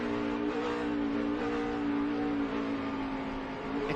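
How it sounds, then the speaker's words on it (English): A Toyota race car at a 2009 road-course race downshifts with throttle blips while coming into a corner, a steady, fairly distant engine drone that barely wavers over a few seconds. "once he's coming into this last corner, you'll watch him downshift right through here"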